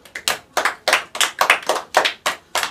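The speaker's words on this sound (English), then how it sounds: "So let's clap for ourselves" Children clapping together in short, rhythmic bursts of sharp hand claps, close and loud, with no talking.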